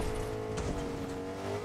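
A car drives in Fortnite battle royale, its engine giving a steady, moderately loud drone with a brief tire-squeal swell midway and no voices.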